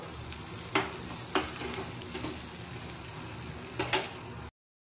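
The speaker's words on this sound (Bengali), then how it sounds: "আর এদিকে মাছ ভাজা কিছুটা ভেজে রাখলাম, কড়া কড়া করে ভাজছি।" Oil sizzles steadily in a pan while fish fries crisp, with a few sharp clinks of a utensil scraping or turning the fish.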